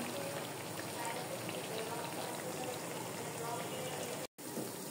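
Steady crackling and sizzling of decorated nakshi pitha rice cakes frying in hot oil, a dense hiss close by, broken by a brief moment of silence near the end.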